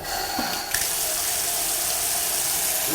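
A tap is turned on with a short mechanical click, then water runs from it in a steady loud rush, close by in a rental room's bathroom or kitchen.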